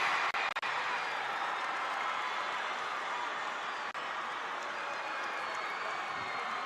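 A basketball crowd at a New Jersey high school boys championship game between East Side and Shawnee roars in a dense, continuous wash of noise after a missed free throw, loud and steady with no clear breaks.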